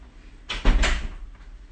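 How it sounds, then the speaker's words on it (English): A creaking door being pushed shut indoors, giving one close, short swell of creak and bump lasting under a second, with quiet room tone on either side. "Creaking door. I'm just going to close that before it slams."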